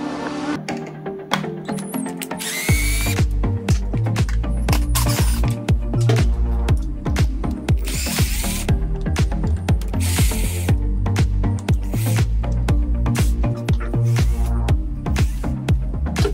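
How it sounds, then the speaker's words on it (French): Small Phillips screws being removed from the trolley of a Veteran Sherman S electric unicycle, producing loud, close, rapid clicking and ratcheting from a tool that runs steadily for most of the stretch after a quieter start. "pour lever le trolley, on va avoir les deux petites vis cruciformes à enlever, ainsi que la clé Allen du milieu"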